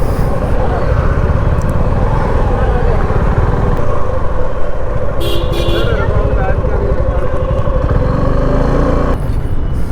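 A 2024 Suzuki V-Strom 250 SX motorcycle pulls at low RPM in third gear, its engine a loud continuous drone mixed with heavy wind rush from riding, steady throughout.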